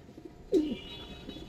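A pigeon gives a single short, low coo in a loft housing military, silver and other fancy pigeon breeds, close to the microphone, with a faint high ringing tone and quiet background behind it.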